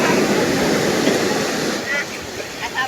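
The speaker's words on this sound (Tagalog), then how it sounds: "Grabe yung alon, no?" Ocean waves slosh and surge against a fishing boat carrying fresh catch, a steady broadband wash of water and wind close by, with people talking over it.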